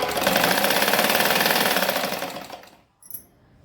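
A sewing machine stitches a blouse sleeve with a close, loud, rapid mechanical clatter for about two and a half seconds, then slows and stops, followed by a short click.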